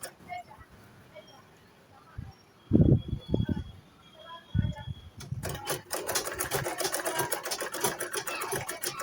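A sewing machine stitches a shirt dress, starting with a few short bursts and then running in a steady fast whirring rattle for the last few seconds, near and moderately loud.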